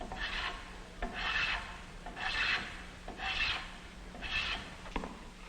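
Rhythmic rasping strokes of a hand plane shaving wood, five steady passes about a second apart, each a soft scraping swish, fairly close and alone.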